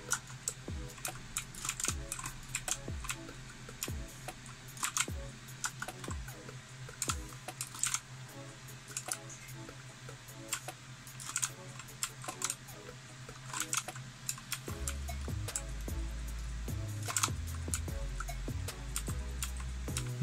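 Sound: typing on mechanical keyboard

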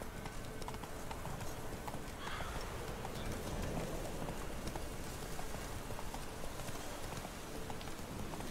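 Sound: horse hooves in The Witcher 3 video game

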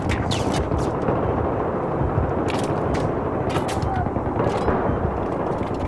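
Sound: gunfire from video game Battlefield 3

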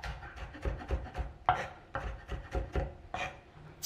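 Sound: knife crushing and mincing garlic cloves

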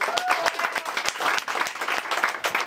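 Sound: audience applause at a boxing event

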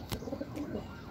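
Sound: pigeon cooing as it returns to the loft

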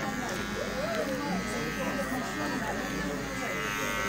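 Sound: electric hair clippers tapering a haircut

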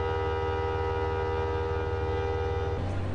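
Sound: Seven Stars in Kyushu luxury sleeper train of JR Kyushu

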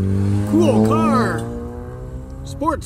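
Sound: sports car accelerating past

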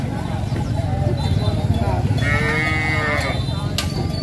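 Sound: cattle mooing at a cattle market in Ha Giang

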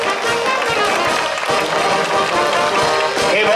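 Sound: applause for the pitchers

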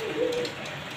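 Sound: racing pigeons cooing

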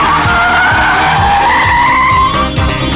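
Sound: Holden Monaro car spinning round, tires skidding

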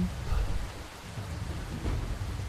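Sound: light rain in the video game Werewolves in Heavy Rain

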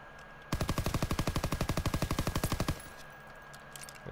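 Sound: gunfire from a gun in the video game Call of Duty WW2

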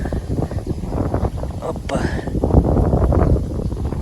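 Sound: strong wind

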